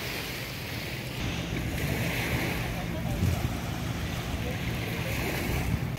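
Surf washing ashore at Alona Beach on Bohol, a steady broadband rush of waves with wind noise on the microphone and faint boat activity, continuous and moderately loud throughout.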